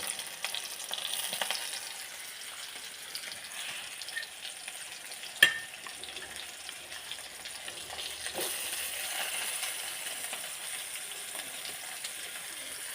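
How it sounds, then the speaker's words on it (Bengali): Sliced onion and garlic with a little salt fry in hot oil, giving a steady, fairly quiet sizzling hiss with one brief sharp tap partway through and no voices. "তেল আমার গরম হয়ে গেছে আমি দিয়ে দেবো হচ্ছে ওর সাথে লবণ দেওয়া আছে পেঁয়াজটি পেঁয়াজ রসুনগুলা লাল করে ভেজে নেবো"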